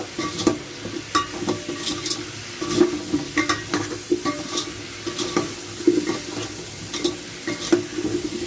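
Spiced vegetable curry frying in a pan while being stirred, with a sizzling bed and repeated scraping and clacking strokes at an uneven rhythm.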